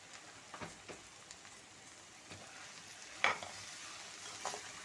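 Faint stirring of salt, chilli powder and turmeric into frying food in a pan for an aubergine and dal dish, with a low steady sizzle and a few soft scrapes, one slightly louder.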